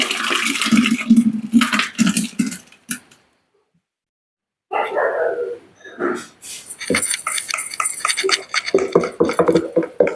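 Liquid pours and gurgles into a churning jar in splashy bursts, broken by a brief pause, with voices speaking around it.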